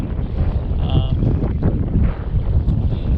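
Steady wind gusting outdoors on a lake paddling route, a constant low buffeting roar across the mic with faint water and boat movement beneath, no talk.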